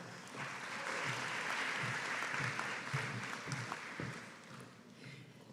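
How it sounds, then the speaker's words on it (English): A crowd applauds steadily for several seconds at a college graduation ceremony, the clapping dense and even before tapering off slightly at the end. "Big round of applause"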